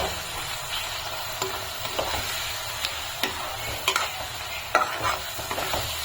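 Onion and tomato paste frying in a generous amount of oil for a prawn masala, a continuous close sizzle broken by intermittent scrapes and clicks of stirring.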